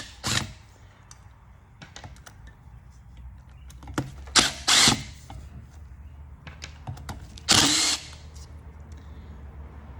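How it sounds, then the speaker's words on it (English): A power tool, an impact driver, runs in short separate bursts while backing screws out of the frame of a DD Audio 12-inch subwoofer, with several brief whirring pulses over a quiet background. "We're gonna grab an impact and get them screws out."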